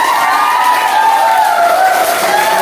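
Students in an Indonesian classroom applaud together, a steady dense wash of clapping that holds at an even level throughout, with a faint murmur of young voices underneath.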